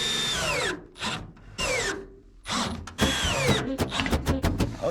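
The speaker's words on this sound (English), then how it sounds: "I'm just gonna drill it while it's up there" A power drill drills into metal siding, revving repeatedly, pitch dropping as it bites into the metal, followed by a rapid series of short stuttering bursts, close and loud.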